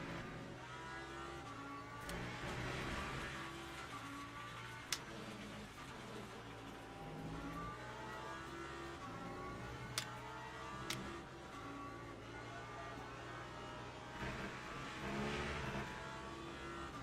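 Porsche race car in the Le Mans Ultimate racing game, a steady droning engine with rising and falling pitch through gear changes and a few sharp ticks, quiet and continuous.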